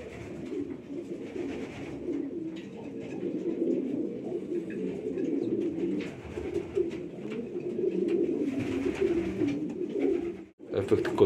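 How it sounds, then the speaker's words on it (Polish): Homing pigeons coo steadily in a breeding loft, a low, throaty murmur, several birds overlapping close by in a continuous rolling chorus. "Widzicie, te gołębie już sobie spokojnie siedzą."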